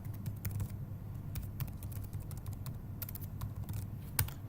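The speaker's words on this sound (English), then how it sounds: "Type in a name for this new integration object." Fast typing on a computer keyboard as a name is entered for a new integration object in server setup, with close, bursty clusters of sharp clicks separated by brief pauses and no speech.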